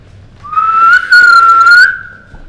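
A person whistles a clear rising note, pauses briefly, then holds a second sustained whistle, close and loud.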